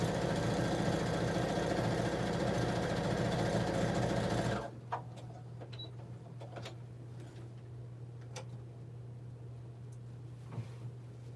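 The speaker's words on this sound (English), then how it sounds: "I'm going to go ahead and just do that little stay stitch about 1/8 of an inch" A sewing machine running a steady stay stitch on quilted fabric pieces for a cell phone pouch, a loud continuous whirring for several seconds that stops abruptly, leaving quiet room sound.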